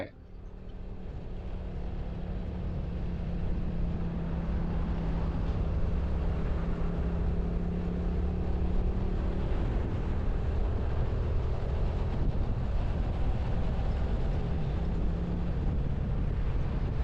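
A car drives across a newly opened bridge road with fresh, partly unfinished asphalt, giving a steady, loud rumble of tires and engine with wind buffeting throughout and no clear talk.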